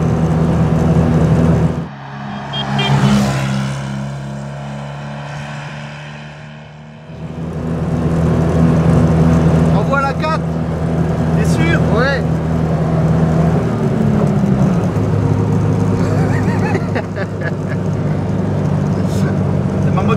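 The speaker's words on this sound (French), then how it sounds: "Écoute, le moteur monte en régime." A Fiat 500 engine drones and strains while climbing a hill, loud and close from inside the car, its pitch rising as it revs, with people talking over it throughout.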